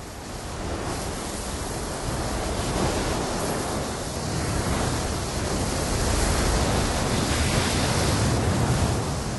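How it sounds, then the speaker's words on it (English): Fierce desert wind sweeps across open Saharan sand, a steady, dense, loud roar of rushing air and hissing grains that swells slightly and never lets up, with no voices. "The ferocious wind, armed with grains of sand, is the agent that shapes all deserts."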